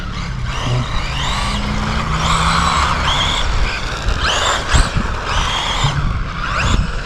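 A Traxxas Mini Slash RC car fitted with hard-compound tires drives about outdoors, its small electric motor whining and rising and falling in pitch as it accelerates and turns, with brief scuffs and bumps.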